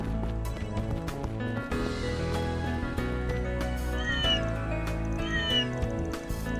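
Cat meowing in the video game Trails Beyond the Horizon, several bright meows in the second half set over game background music, fairly clear and close.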